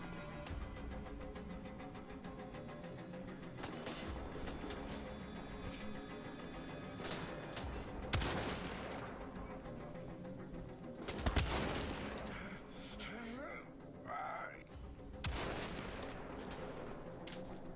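Gunfire from the Bombenschuss weapon in a German werewolf video game, a dense barrage of shots and thuds over a game soundtrack, with louder bursts near the middle and later.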